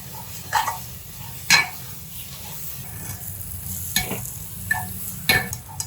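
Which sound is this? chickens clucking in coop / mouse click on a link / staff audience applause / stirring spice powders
stirring spice powders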